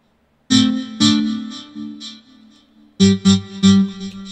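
A bright synthesizer plays a short melody of distinct notes, a run of sustained tones, a pause, then a quicker phrase of punchy notes.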